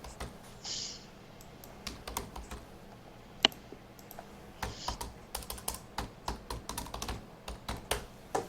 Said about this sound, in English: Sounds like you're beating up your keyboard. I type hard.